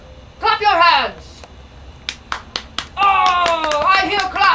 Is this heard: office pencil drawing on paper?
no